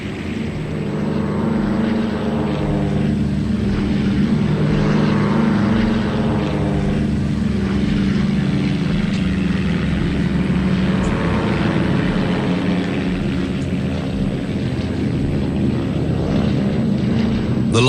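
Propeller engines of a Liberator aircraft in flight over the Mediterranean, a loud continuous droning hum with a steady pulsing beat throughout and no talk.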